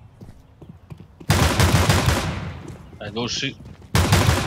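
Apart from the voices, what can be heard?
gunfire in a video game shooter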